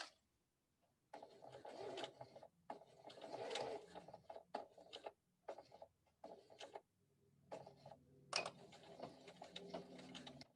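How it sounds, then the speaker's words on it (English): Sewing machine stitching a seam on a boot, running in short bursts with brief pauses between them, fairly close and moderately loud with no talking. "All I will be doing now is stitching to this end,"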